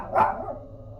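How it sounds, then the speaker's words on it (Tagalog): A single angry dog bark with a hint of growl rings out at night, close and sharp, trailing into a low rumbling tail. "sunod-sunod at malalakas na tahol ng aso ko"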